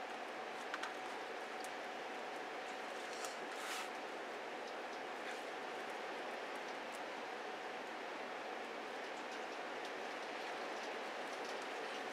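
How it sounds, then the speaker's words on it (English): Heavy rain falls in winter as a steady, even hiss with scattered sharp drop taps, continuing at an unchanging level. "The rain is slowing down a bit."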